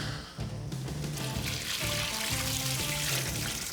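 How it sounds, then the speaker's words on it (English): Water is poured into a pot of pastrami brine mix holding kosher salt, brown and white sugar, pink salt and honey, a continuous splashing gush over a low kitchen hum. "Dump our water in here."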